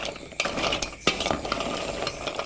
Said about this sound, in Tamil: எல்லா சைடிலையும் சர்க்கரை பாகு படுற மாதிரி இந்த மாதிரி நல்லா கலந்து விட்டுக்கணும்.